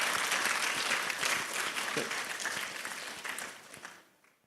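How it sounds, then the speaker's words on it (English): An audience applauds after a lecture at an academic conference: dense, steady clapping that holds for about four seconds before tapering off at the end. "let's give a round of applause for Professor Sim"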